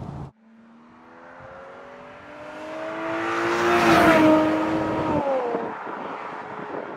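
An Aston Martin DB7 V12 Volante engine pulls while driving, its smooth multi-cylinder note rising steadily in pitch and volume to a peak, then easing off as the revs settle, loud and close with no talk.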